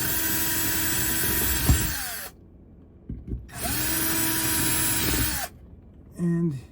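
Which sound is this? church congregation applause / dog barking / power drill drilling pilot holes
power drill drilling pilot holes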